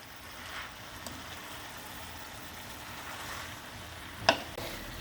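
Beet leaves cooking in a pot are stirred with a steady low sizzle and soft scraping throughout, plus one sharp utensil clink near the end; no voices.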